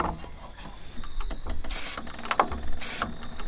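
Caterpillar D2 diesel fuel injector, new old stock, firing on a test stand at about 1500, two sharp hissing bursts of fine spray against a background of mechanical clatter.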